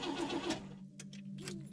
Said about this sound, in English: Start the car. It won't start.